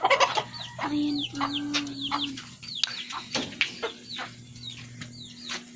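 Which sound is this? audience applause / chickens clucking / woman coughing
chickens clucking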